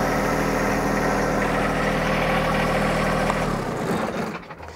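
A John Deere tractor engine runs at a steady loud idle with a low rumble and vibration, then winds down and fades near the end.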